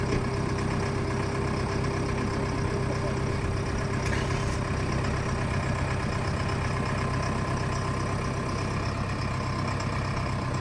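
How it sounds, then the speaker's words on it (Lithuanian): A car engine idles during a night drive, a steady low rumble that holds evenly throughout with no voices. "Bet kažkaip variklis dirba"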